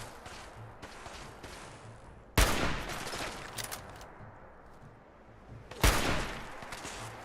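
Hunting rifle fire in the video game Fallout 4: two sharp, loud shots a few seconds apart, each a sudden crack followed by a rolling echo, over a low murmur of game ambience.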